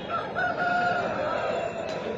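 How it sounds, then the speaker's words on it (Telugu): A rooster crows loudly and close by at a Sunday pet market in Pileru, one sustained call with no talking. "నెమిలి పుంజు, ఎరుపు నెమిలి."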